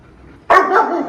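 A young dog lets out a single sharp bark that runs into a slightly longer second yelp, close and loud, following a brief quiet stretch with no talking.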